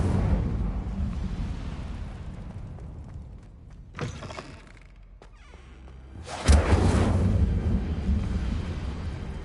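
The Incendio fire spell from Hogwarts Legacy is cast twice, each time a sharp fiery burst with a whoosh and rumble, the second louder and followed by a sustained roaring blaze.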